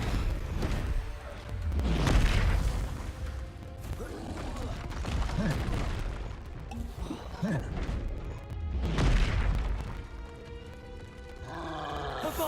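In Hogwarts Legacy combat, a Confringo explosion spell goes off amid a string of loud crashes, roaring bursts and mechanical clatter. Big swells hit near the start, middle and end, with bright crackling debris between them.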